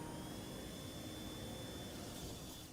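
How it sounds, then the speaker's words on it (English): A micromouse robot spinning up its suction fan propeller, a loud steady high-pitched whirring whine like a tiny jet or vacuum, continuous and close throughout with no talk. "That isn't the mouse revving its engines, it's spinning up a propeller."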